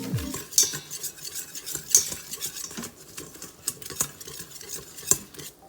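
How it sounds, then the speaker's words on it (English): A whisk scrapes and clicks steadily against a pot while a flour roux is worked smooth for cream of wild rice soup, close and moderately quiet with regular taps. "And then I am going to whisk all of this goodness together"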